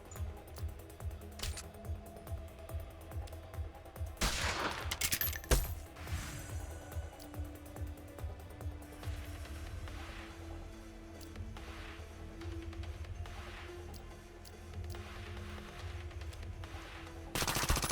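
Rifle fire in the Reverse Collapse: Bakery Girl video game, a regular series of crisp shots with a few louder bursts and metallic clinks, over a low background game soundtrack.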